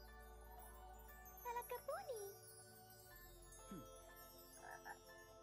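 A frog croaks in the video game Lost in Play, a few short bubbly croaks and chirpy calls over a soft ambient music bed and light jingling tones, fairly close and clear.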